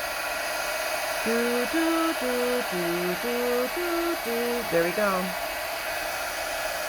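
A Milwaukee heat gun fitted with attachments blows a constant loud rush of hot air for embossing while someone hums a short tune over it and briefly speaks.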